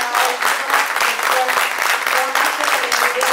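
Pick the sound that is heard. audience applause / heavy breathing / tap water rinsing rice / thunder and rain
audience applause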